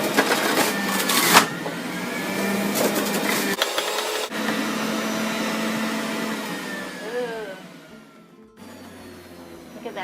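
A large electric press juicer runs on its high setting with a continuous whirring, grinding motor hum, punctuated by a few clunks and brief pauses.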